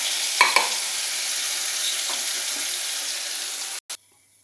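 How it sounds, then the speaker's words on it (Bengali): A ground bottle gourd peel paste fries in oil in a wok over low heat, giving a steady, even sizzle with a couple of brief stirring clicks before it cuts off abruptly. "এবার একদম ধিমে আঁচ করে এটাকে ভাজতে থাকবো।"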